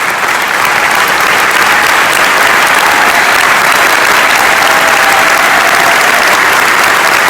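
A crowd at a San Francisco fire academy graduation ceremony gives the instructors loud, sustained applause that stays even throughout.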